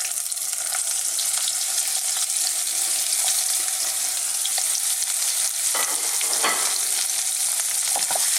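Ginger, lemongrass, garlic and red chilli fry in hot oil for a Thai pork curry, a loud continuous close-up sizzle with occasional stirring scrapes.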